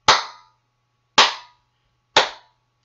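Three sharp, loud hand claps ring out over a crystal on a table, evenly spaced about a second apart, each with a brief decaying tail and silence between.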